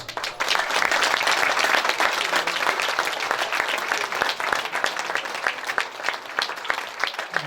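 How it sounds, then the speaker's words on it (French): An audience applauds teenagers brought onto a stage at a community event, a dense, sustained wash of many hands clapping, steady and full for several seconds before thinning slightly toward the end. "Et je voudrais qu'on les applaudisse."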